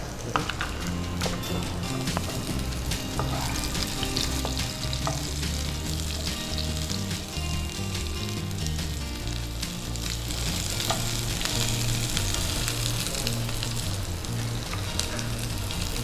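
Onions frying in a pan for egg biryani, a loud, dense continuous sizzle with occasional stirring scrapes and crackles throughout.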